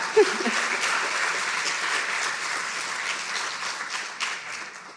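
Audience at a justice-movement gathering clapping steadily, a dense even wash of applause from a roomful of people lasting the whole few seconds.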